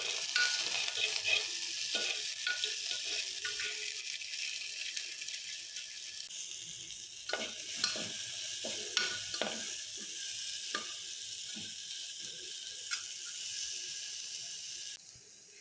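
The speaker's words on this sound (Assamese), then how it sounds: "তাৰপিছত চব্জিখিনি অকণমান ভাজি ল'ম।" Chopped vegetables and onion frying in a little oil in a pressure cooker, a steady close sizzle with occasional stirring scrapes and clicks throughout, no talking.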